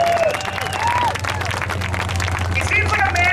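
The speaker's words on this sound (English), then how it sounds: "a round of applause, Hudson!" A speedway crowd at a Memorial Day spectator race claps and cheers in a dense, sustained burst of applause, with chatter and voices mixed in around it.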